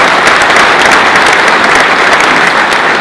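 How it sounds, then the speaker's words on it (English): A large audience at a St. Catharines State of the City address gives a sustained round of applause, a dense, steady wash of many hands clapping, loud and close, with no talking over it. "You deserve a round of applause."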